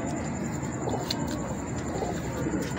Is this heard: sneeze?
no